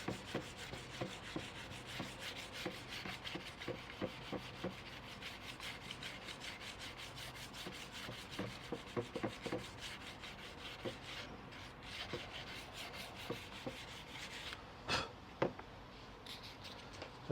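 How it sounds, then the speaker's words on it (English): Wet sanding on car paint during prep, a faint, steady rasp of rhythmic back-and-forth strokes that goes on without pause, quiet and close, with no voices. "Here's the advantage of wet sanding."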